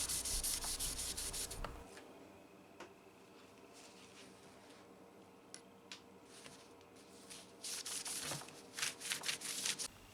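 Steady sanding of a guitar peghead with fine-grit sandpaper, with rhythmic rubbing strokes against the surface, some bursts louder and denser, no voices.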